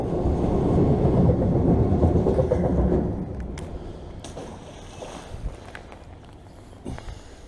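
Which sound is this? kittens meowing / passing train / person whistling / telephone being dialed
passing train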